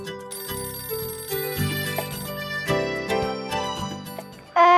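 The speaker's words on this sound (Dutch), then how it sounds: "Jongens, er gaat een telefoon." A telephone rings with a bright, repeating electronic ringtone melody, clear and fairly loud, continuing in a steady pattern for several seconds before a louder burst at the end.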